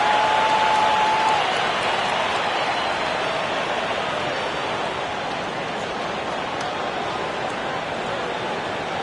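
Arena crowd noise in an NBA 2K25 basketball game on PS5, Celtics versus Knicks in the playoffs: a dense, loud, steady roar of cheering fans that sounds almost like rushing rain, holding unbroken throughout.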